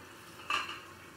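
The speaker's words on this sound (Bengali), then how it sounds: "চাপাটা তুলে নিচ্ছি" A lid is lifted off a cooking pot of cucumber and prawn sour curry: one brief, light metallic clank with a short ring, fairly faint over a quiet kitchen background.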